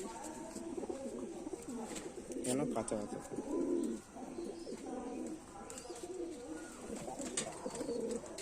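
Open-tailed pigeons coo softly in short repeated bursts close by, mixed with faint chirps, while a person talks over them.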